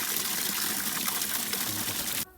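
Clean water gushes steadily from a tap or hose into a washing basin, a close, continuous splash that cuts off abruptly at the end.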